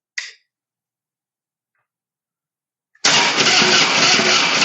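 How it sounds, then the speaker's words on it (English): A Harley-Davidson motorcycle with a low battery gives a brief click, then its starter cranks loudly and steadily for under two seconds without catching. "Battery's not cranking too healthy"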